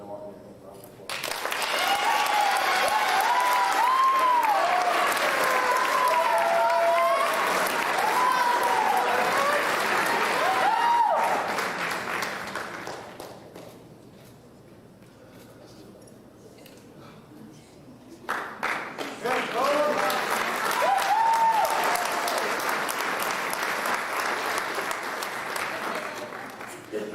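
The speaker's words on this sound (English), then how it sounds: "Everyone give Anna Martin a round of applause." An audience applauds at a school awards and scholarship night, with sustained loud clapping that dips to a quieter patch midway before swelling again, mixed with crowd noise and some voices.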